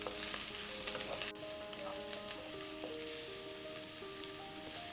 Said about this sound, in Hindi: प्याज, बीन्स, पत्ता गोभी और गाजर डाल लेते हैं और इन्हें चला लेते हैं